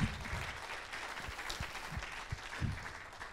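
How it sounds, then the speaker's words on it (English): Audience applause at a conference graduation panel, a steady wash of clapping at moderate distance lasting the whole stretch, with a few louder low thumps scattered through it. "can we give these guys a round of applause?"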